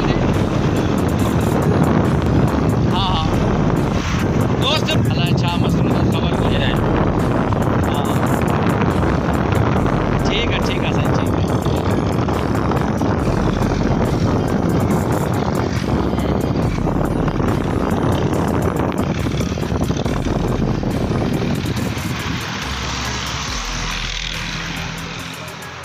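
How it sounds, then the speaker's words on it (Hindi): Motorcycle engine droning steadily with loud wind rush while riding on the road toward Hyderabad, continuous and close, fading slightly near the end. "मोटरसाइकिल"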